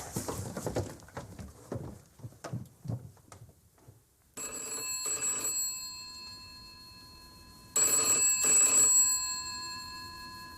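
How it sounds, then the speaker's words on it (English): A telephone bell rings in two loud, steady bursts with a pause between them, following a stretch of rhythmic, soft tapping sounds. "The phone is ringing! The phone is ringing! Won't somebody answer that phone?"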